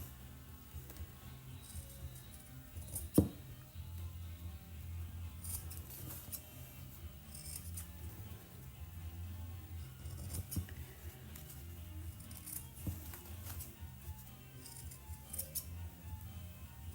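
Scissors snipping the corners of fabric on a Kimberbell mug rug, with a few quiet, scattered cuts and one sharp click standing out over a low background hum.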